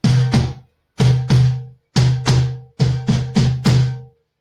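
A cajon struck in the middle of its face gives deep, resonant thumps, close and solo, in short groups of two and three hits separated by brief pauses.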